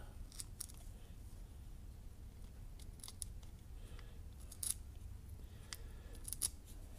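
Scissors snipping through thick rubber gasket material during a 1947 MG TC rebuild, a series of sharp, quiet crisp cuts at irregular intervals over faint background hiss.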